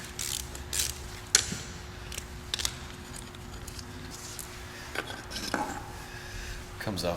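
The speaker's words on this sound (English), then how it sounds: "I'm using hand tools for this." Quiet hand-tool work removing 8mm bolts on a 2002 Ford Focus during a clutch replacement: scattered ratchet clicks and light metallic taps spaced irregularly over a low background hum, close and faint.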